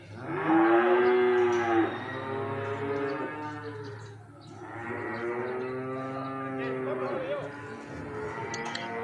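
Cattle at a livestock market in Payakumbuh low in long, drawn-out moos, two or three loud calls close by with a busy crowd murmuring behind.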